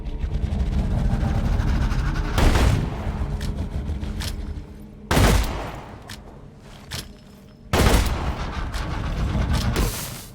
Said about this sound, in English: I'm just gonna shoot this thing with shotgun till it dies